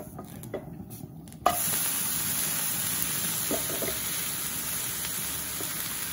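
Uthappam topped with vegetables sizzling on a hot pan over low flame just after flipping, a steady close frying hiss that jumps louder after a soft clatter and continues evenly with a few faint clinks.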